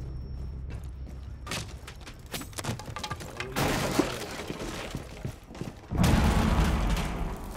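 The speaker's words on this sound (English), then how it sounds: "Fall back. Grenade." Grenade blast in the Rainbow Six Siege video game, a loud broadband burst landing midway, then a second heavy roar near the end over ongoing gunfire and rattling effects.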